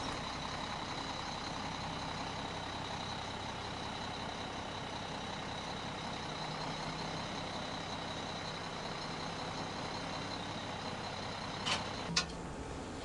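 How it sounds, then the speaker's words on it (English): Heavy truck idling steadily as it is hitched to a house-moving bolster for an oversized load, a continuous low engine drone with a brief sharp clank or hiss near the end. "Once more, the truck will be connected to the bolster."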